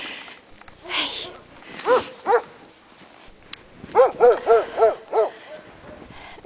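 Several dogs at a small animal shelter give short yelping barks and whimpers, with a quick series of close, loud yips in the second half and quieter snuffling between them.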